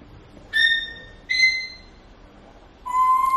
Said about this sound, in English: The bird's screaming.